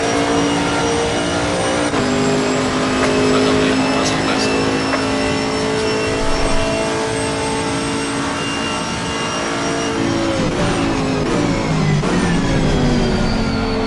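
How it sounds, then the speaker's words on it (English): A Chevrolet Camaro race car engine in Assetto Corsa Competizione drones loudly and continuously, its pitch rising and falling through gear changes and throttle shifts, with occasional brief mechanical clicks. "it's because the engine is so freaking loud in my headphones right now"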